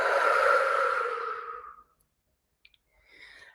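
A single long, deep exhale with a soft breathy rush lasting almost two seconds during a breathing exercise, fading out, followed by a couple of faint clicks and a quieter breath.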